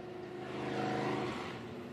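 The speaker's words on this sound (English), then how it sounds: "That's an angry sounding car, Tanner." Race car engine revving loudly and steadily at Phillips County Raceway in Nebraska, a harsh, rough-toned roar that swells slightly in the middle of the two seconds and then holds, close by with no talk over it.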